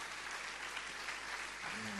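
A church congregation claps in praise, a steady wash of applause that fills the room, fairly distant and even, with a faint voice starting near the end.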